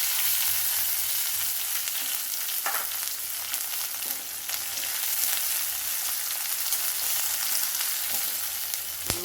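Fennel seeds, onion and curry leaves fry in hot oil in a kadai, giving a steady, fairly quiet hiss and crackle that runs through the whole stretch, with a few faint scrapes of a spoon.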